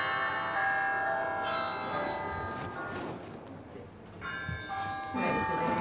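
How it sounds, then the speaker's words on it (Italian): A bell rings in sustained, ringing tones that start, fade, then sound again, with voices and background murmur underneath. "è suonata la campana."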